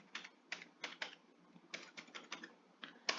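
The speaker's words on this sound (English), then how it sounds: "So I'm typing password at 123" Soft keystrokes tap on a computer keyboard, a dozen or so irregular clicks close by in a quiet room.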